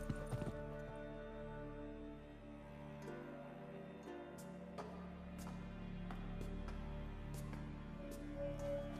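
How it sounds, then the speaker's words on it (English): Footsteps in the video game The Witcher 3: Wild Hunt clop along at a steady walking pace over a low ambient drone and background music, moderately close and fairly quiet. "Footsteps."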